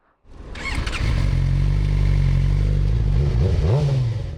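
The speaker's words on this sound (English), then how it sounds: "Oh, gotta turn the bike on." A motorcycle fitted with a new exhaust fires up after a moment of quiet and holds a loud, close, throaty idle, with a quick rev rising and falling near the end.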